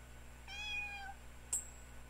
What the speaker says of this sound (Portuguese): Olha um gatinho! Olha, gatinho!